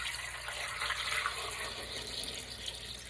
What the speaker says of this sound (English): I'm just going to fill it with just enough cold water